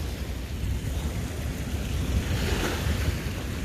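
Continuous rushing of fast-moving floodwater on the Mississippi River, a broad steady roar with some wind buffeting the microphone, no speech.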